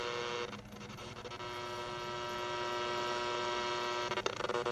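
Steady shortwave static hiss from a PRUNUS J-08S AM/FM/SW radio being tuned in the afternoon, a dense continuous noise with a faint hum, holding level throughout with brief crackly bursts near the end.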